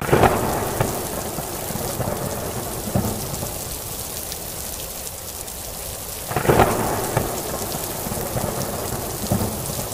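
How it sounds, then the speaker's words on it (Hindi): Heavy rain pours steadily with close, loud thunder cracks near the start and again past the midpoint, rumbling under a constant dense hiss of rain. "इतनी तेज बारिश तो मैंने आज तक नहीं देखी"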